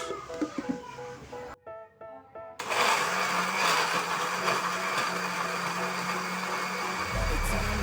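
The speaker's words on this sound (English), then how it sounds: "tinggal kita blender hingga halus" An electric kitchen blender grinds a fishing bait mixture until smooth, starting after a pause with a loud, steady motor whir that holds continuously and close for several seconds.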